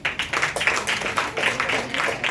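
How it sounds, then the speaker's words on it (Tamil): Audience applause at a Tamil literary event as a schoolgirl comes up to speak, dense steady clapping from a crowd filling the room, moderately loud and continuous. "பலத்த கரகோஷத்தோடு"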